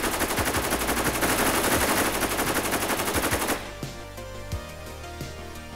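A heavy stubber fires a rapid sustained burst of machine-gun rounds in a dense rattling stream, then stops abruptly, leaving a few scattered thuds and a quieter ringing tail.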